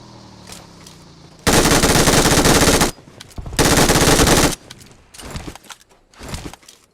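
Automatic gunfire in a video game comes in two loud, sustained bursts of rapid shots, each lasting over a second, followed by scattered quieter shots and faint game noise.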